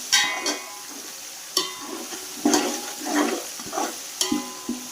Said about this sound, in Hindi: एक मिनट तक इसे भूनेंगे